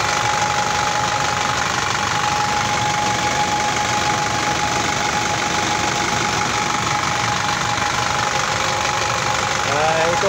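An Isuzu 4HG1 diesel engine, freshly fitted with a new piston, piston rings and cylinder liner after overheating, runs steadily and loudly with a constant knocking clatter close by.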